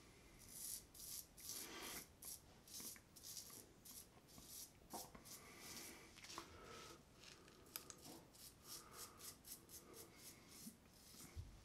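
A razor scrapes through stubble in a quick series of close, raspy strokes that sound faint and papery, with no talking.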